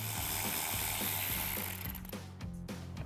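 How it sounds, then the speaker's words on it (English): A 7mm socket on an electric ratchet loosens coil pack bolts on a 1999-2004 Mustang 2-valve engine, giving a close, steady mechanical whir with rapid ratcheting clicks that eases off near the end. "I'm going to take my electric ratchet with a 7mm, loosen all these bolts up that hold it in."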